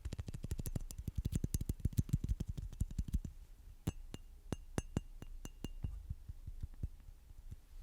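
Glass tapped with fingertips or nails in close-up, a steady run of bright clinks that starts fast and dense, then slows into sparser, ringing taps, with no talking.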